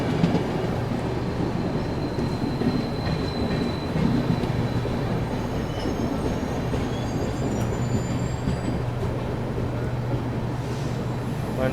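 A crowded passenger express rumbles past on the rails near Visakhapatnam, its wheels producing a steady, loud, continuous clatter with faint high squeals drifting above throughout.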